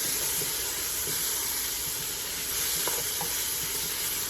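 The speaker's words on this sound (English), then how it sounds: "So again, continue to keep stirring." Vegetables for a homemade vegan vegetable soup stir in a pot over a steady background sizzle and hiss, with a few soft utensil scrapes near the end; no one speaks.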